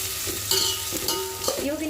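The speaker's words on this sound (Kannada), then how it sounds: "ಇವಾಗ ನೀವು ನೋಡ್ತಿರ್ಬೋದು ಇಲ್ಲಿ ಆನಿಯನ್ಸ್ ಕೂಡ ಫ್ರೈ ಆಗ್ತಾ ಬಂತು" Sliced onions sizzle and fry in hot oil for a veg pulao, with steady crackling and repeated scraping of a spoon stirring the pan, close and clear.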